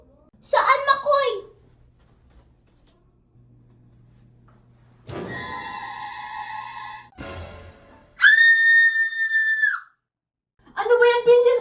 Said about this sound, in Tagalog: Bakit ka pa sigaw ng sigaw?